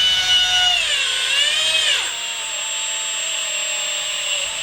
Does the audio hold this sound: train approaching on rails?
no